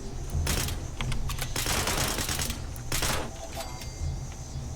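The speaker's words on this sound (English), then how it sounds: "Who's shooting at me?" Rapid gunfire bursts crackle in Fallout 76, several volleys of shots in quick succession over a steady low background hum, loud and close.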